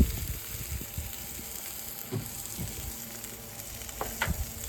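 Water and sesame oil sizzle and spit on a hot Blackstone flat-top griddle, a steady crackling hiss heard up close with a few brighter pops and no voices.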